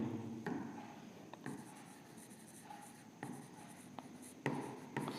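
A pen writes on paper while a right-triangle height-and-distance trigonometry problem is worked out, giving soft continuous scratching with sharper taps and strokes throughout, close and quiet, with no talking.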